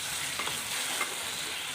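Fried eggs and potatoes being stirred into ground spice paste sizzling in a pan for a Bengali egg curry, giving a steady, close frying hiss with a few soft scrapes of the spoon.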